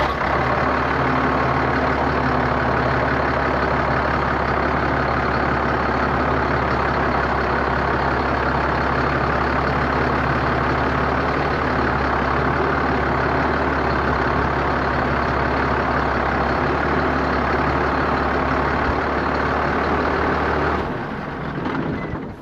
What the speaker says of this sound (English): I think I may need to turn the tractor on, just briefly, and turn it left so that we can get those bolts out.